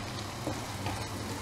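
Masala for a Kottayam-style fish curry frying in oil in a pan, a faint, steady sizzle with soft stirring scrapes, heard briefly and alone.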